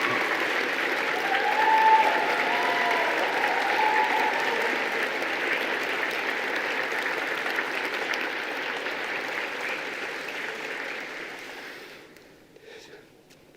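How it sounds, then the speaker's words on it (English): Veterinary graduates at a graduation ceremony give sustained applause to their families, a broad, even roar of many hands from a large seated crowd that holds steady for about twelve seconds before fading out. "why don't you stand up and applaud them for all the support they have given you throughout these years?"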